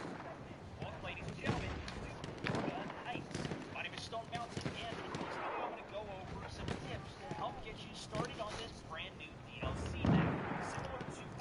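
A siege cannon in the video game Battlefield 1 booms repeatedly amid the noise of battle, with one heavy blast standing out near the end, all beneath near-constant talk.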